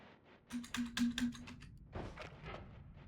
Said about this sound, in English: The keys are making some kind of weird squeaky noise.